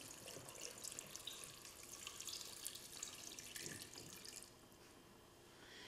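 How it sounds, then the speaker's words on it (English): Four cups of beer poured from close by over brats, herbs, celery seed, mustard seed and black peppercorns in a pot, a continuous splashing, bubbly gush that eases off near the end, quiet overall. "And then we have 4 cups of beer. I'm going to pour in over everything."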